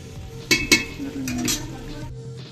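Fish fillet pieces are pan-fried until golden and turned carefully, with two sharp metallic clinks of a utensil against the pan over a steady soft sizzle.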